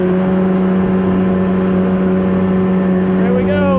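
Yamaha WaveJammer jet ski engine droning loud and steady with a constant hum, with a brief pitch rise near the end, heard up close on the water.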